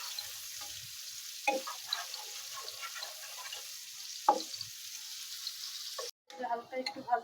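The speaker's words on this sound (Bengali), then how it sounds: "মাছের তেলটায় একটু পেঁয়াজ কুচি দিয়ে দিচ্ছি।" Chopped onion frying in leftover fish oil for a village-style mixed fish curry, a quiet steady sizzle with a couple of sharp spatula knocks and some stirring, then brief clattering near the end.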